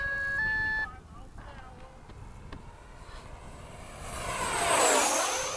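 A Freewing 80mm F-5 RC jet makes passes at an airfield at sunset, a ducted-fan whine rising from afar into a loud rushing flyby near the end, with people talking briefly earlier.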